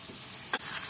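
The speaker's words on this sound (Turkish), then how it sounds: "Ocağım çok kısık ateşte, hamurun pişmesini bekliyorum." Churros dough cooks in a pot over very low heat while it is stirred, a soft steady sizzle with one brief scraping stir, close and quiet, lasting under a second.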